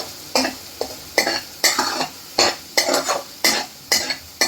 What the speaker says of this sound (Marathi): मसाला पण असा छान परतून घेणार आहोत